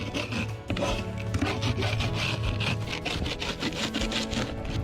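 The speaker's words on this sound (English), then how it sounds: "Getting all the ice off of our slide" Ice being scraped off the slide-out of a full-time RV parked in the shade, done without a proper ice scraper: a steady, continuous rasping and rubbing, close and fairly loud, with repeated strokes running on without pause.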